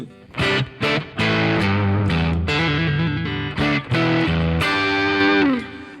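Clean Stratocaster electric guitar with a slight edge plays a series of plucked chords and notes, each ringing briefly, fairly loud and close, no talking.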